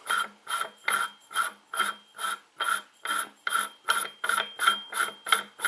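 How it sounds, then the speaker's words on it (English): An AR-15 barrel nut is threaded onto the barrel in about fifteen even, rhythmic metallic ratcheting clicks, close up and steady, with no speech. "you slide that over the barrel and engage the threads"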